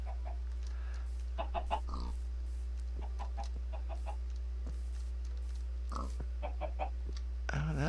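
Video game chickens cluck in short, repeated bursts over a steady low hum, with a few faint squawks scattered through the stretch and no voices on top.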